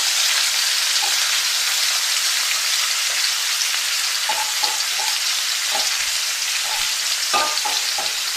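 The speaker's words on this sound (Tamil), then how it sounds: "உள்ளி நல்லா வதங்கட்டும்." Onions sautéing in a pan for beetroot stir-fry, a loud, steady close sizzle with light crackles and occasional spatula clicks, no voices.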